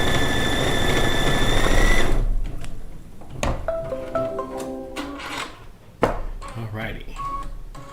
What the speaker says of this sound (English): now we are going to do the placement stitch for the center, which I'm using this turquoise fabric for that one